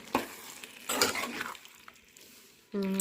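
A spoon scrapes and stirs chicken curry in a pan with soft sizzling, in a few quiet, uneven strokes, before a voice briefly begins at the end.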